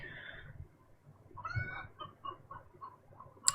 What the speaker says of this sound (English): Tell those chickens they're going to get fried if they keep yapping